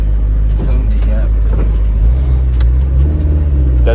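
A wrecked Ford F-150 pickup bought at auction runs on a test drive, its engine a loud, close, steady low rumble that shifts in pitch midway, with people talking over it.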